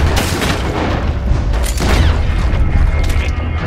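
Machine gun fire in Red Dead Redemption 2 forms a dense, continuous rattle of rapid booming shots with mechanical clatter, loud and sustained throughout the brief stretch.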